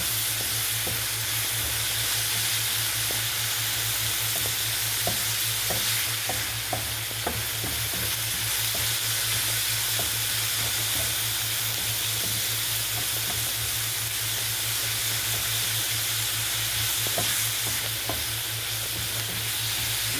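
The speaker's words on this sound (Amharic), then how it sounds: "አሁን ጀዘሩን ጨምሬ አሻለሁ።" Carrots frying in a pan give off a steady, close sizzle for twenty seconds, with repeated clicks of a utensil stirring through them and no voices.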